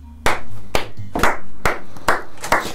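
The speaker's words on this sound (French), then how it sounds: "J'applaudis à chaque fois tout seul." Hands clap six times in a loose, uneven rhythm, each clap sharp, close and loud, with quiet gaps between and no talking.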